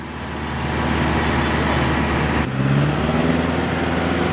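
A jeepney engine held at 2,000 RPM, a steady loud drone with a low rumbling hum and a brief dip midway before the tone firms up again.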